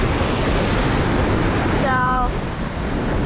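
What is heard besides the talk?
wind blowing at the shore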